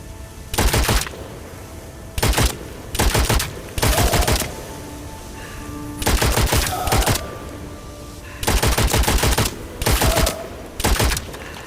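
Automatic gunfire from a gun in Witchfire played in VR comes as loud, rapid bursts of shots, about seven of them, separated by short quiet gaps.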